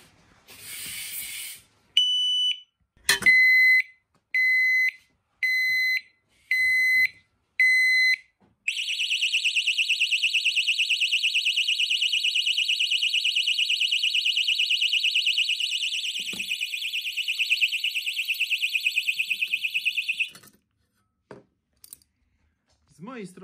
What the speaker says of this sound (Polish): Mieliśmy dwa piknięcia, a chcemy skorzystać z alarmu, więc następny raz wciskamy do końca.